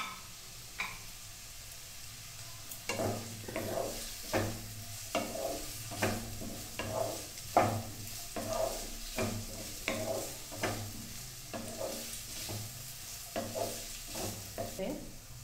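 Carrots frying in a pan for chicken thukpa, a quiet background sizzle broken by a regular series of scraping stir strokes from a spatula, roughly one every half second to second.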